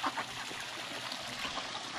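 Water from a small waterfall pours and splashes in a steady, even wash, fairly close and unbroken throughout, with no voices over it.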